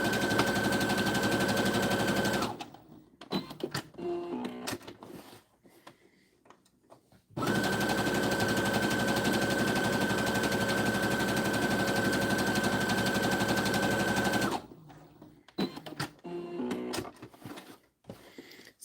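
A sewing machine zigzag-stitches pieces onto fabric for a bowl cozy, running in two long, steady, loud bursts separated by quieter handling noises and pauses.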